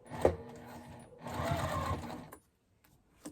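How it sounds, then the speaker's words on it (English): A sewing machine stitches pre-made bias binding onto webbing straps at a 1/8 inch seam. Up close, it whirs in a short burst, then in a longer steady run, and then stops into silence. "I'm just going to sew on the bias binding at 1/8 of an inch."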